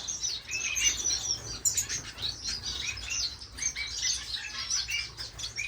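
Finches in an indoor bird room chirp and tweet continuously, many high, quick overlapping calls at close range with occasional wing flutters, no speech.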